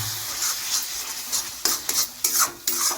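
A spatula scrapes and stirs mashed roasted eggplant in a wok. Soft, irregular scraping strokes come close by, a few sharper clinks of metal on metal mix in, and there is no talking.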